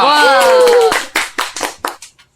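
A voice speaks briefly, then a few quick bursts of hand clapping follow, five or so sharp claps before falling silent.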